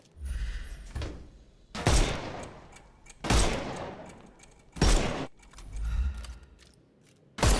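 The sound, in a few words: gunshots shooting off enemies' armour in video game Sherlock Holmes Chapter One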